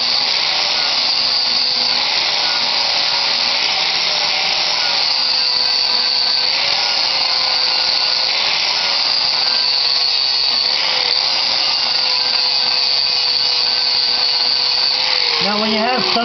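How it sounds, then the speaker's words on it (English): An angle grinder works across welds on a 1986 Jeep body during rust repair, a loud, continuous high whine that wavers slightly in pitch as it bears down, steady and close throughout. "So you can see as I'm going to grind along this line here"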